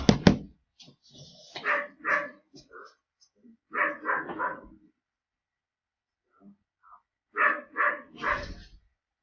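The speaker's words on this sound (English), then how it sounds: "Stupid dog in there." A dog barks in short bursts indoors, separated by quiet gaps, with a person talking at times.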